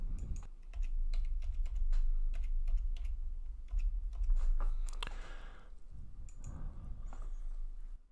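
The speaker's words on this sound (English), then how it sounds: "Let me go ahead and punch in the password to this." Close, fast keystrokes on a computer keyboard enter a Wi-Fi password in irregular bursts over a steady low hum, with a brief rustle partway through and no talking.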